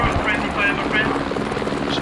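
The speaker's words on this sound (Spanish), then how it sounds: "¡Está bajando un helicóptero!" Helicopter descending in the video game Squad, a steady rotor thump and engine drone running throughout under loud, excited talk.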